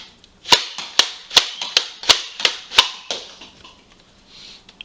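A Nerf Modulus Tri-Strike blaster fires mega darts in a quick series of about seven loud, sharp pops in a steady rhythm, each with a short airy tail, then fades to quiet.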